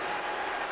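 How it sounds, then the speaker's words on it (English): Dense, steady roar of a basketball arena crowd cheering during a LeBron James game, loud and continuous with no breaks over a short moment. "Listen to the crowd now."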